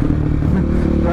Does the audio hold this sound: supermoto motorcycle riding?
yes